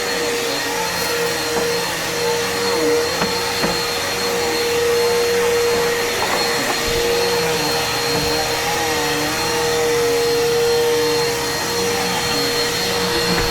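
A Bissell Power Force Helix upright vacuum cleaner with a loose belt runs continuously at steady, loud volume, its motor drone holding a constant tone with slight wavering, no speech over it.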